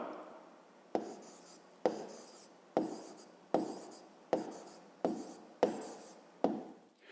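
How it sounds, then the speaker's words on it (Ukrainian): A pen writes an answer in a notebook in quiet, close strokes, about nine short scratchy bursts in an even rhythm roughly a second apart, with no voices. "Добре, записуємо тоді відповідь. Пишемо відповідь."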